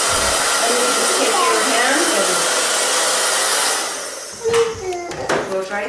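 A hair dryer roars close and loud while blow-drying hair after a home bang cut, then drops lower and steadier as a voice talks over it near the end.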